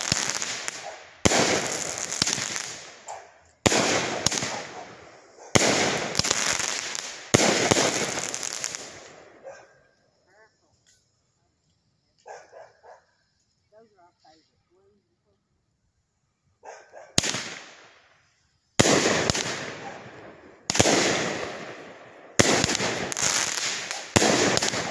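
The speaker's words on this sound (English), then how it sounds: "Great fireworks right there, y'all." Fireworks explode in loud, sharp bursts that come in quick clusters, with a quiet lull midway where a dog barks and voices are faint, then more booming bursts follow.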